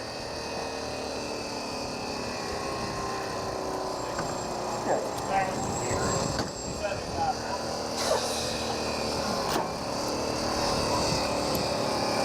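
A steady, distant helicopter drone hums throughout as it arrives at a landing zone during a mock crash drill, with some faint thumps and clatter in the foreground.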